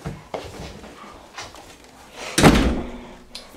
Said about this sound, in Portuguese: Lá vai a Isabela fechando a porta.